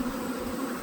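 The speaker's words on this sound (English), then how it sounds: "we're not letting these things go because this swarm is so big" A large honeybee swarm gives off a dense, steady buzz, a close and continuous droning hum with no voices.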